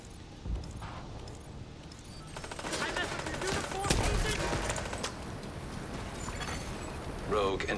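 Video game gunfire rattles in rapid bursts as a player shoots through walls, dense and continuous over a steady rumble, with a synthetic announcer voice and background chatter mixed in.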